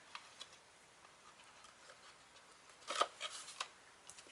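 Score tape is peeled from the edge of a handmade paper card: a faint, close, crackly tearing burst near the end, with a few small rustles around it and no talking.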